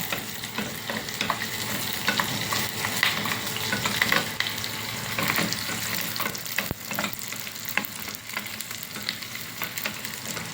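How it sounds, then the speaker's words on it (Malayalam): Dried red chillies and curry leaves fry in oil in a pan for a drumstick curry, giving a dense continuous sizzle with crackles and occasional stirring scrapes, close and steady with no talking. "ഇതിൻ്റെ കൂടെ നമ്മളിതാ ഒരു 2 വറ്റൽമുളക് മുറിച്ചത്, ഒരിച്ചിരി കരിവേപ്പില, ഇതും കൂടെ മൂപ്പിച്ചെടുക്കുക."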